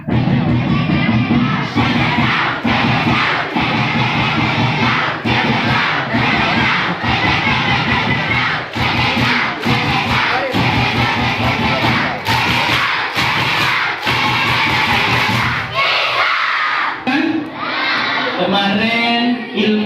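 Ramadan gathering crowd, largely children, performing the Tepuk Islam clapping chant: loud rhythmic claps in unison with shouted chanting voices, continuous and close, breaking near the end into scattered voices.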